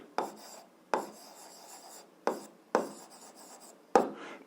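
Five quick, crisp scratches of a pen on paper while writing out an algebra exercise, spaced irregularly about half a second to a second apart, close and quiet with no speech.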